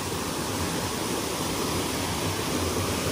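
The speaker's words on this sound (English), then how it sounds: "That is a lot of spring-fed water." Spring-fed water at a mill pouring steadily, a broad continuous rush like a small waterfall or fast stream, close and unbroken with no voices over it.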